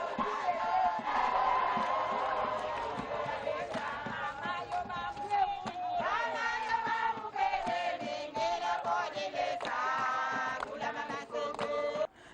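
A crowd outside Jason Sendwe hospital cheers and ululates loudly and continuously for a departing first lady, with overlapping shouts and high-pitched trilling voices throughout.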